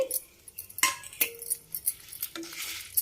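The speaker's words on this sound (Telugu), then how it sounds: "తర్వాత నువ్వులు వేసుకుందాం" Sesame seeds tipped into a pan where coconut podi is roasting, giving light scattered clinks and rattles with a few sharper taps of a spoon against the metal, fairly quiet and close.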